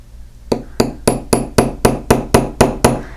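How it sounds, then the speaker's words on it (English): A hammer taps the edge of metal tubing to flare it for a bangle, ten sharp, evenly spaced ringing strikes about a third of a second apart, loud and close with no talking. "I have to go in with my hammer, and I'm going to tap the edges"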